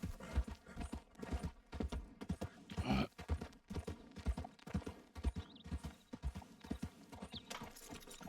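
Horse hooves clip-clop steadily in a repeating rhythm inside a video game, close and clear with a brief neigh-like burst partway through, and no talking over it.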